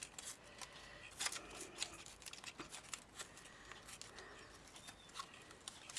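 Paper being torn in short strips to make a paper feather, a quiet close sequence of small rasping rips and crinkles repeating unevenly throughout.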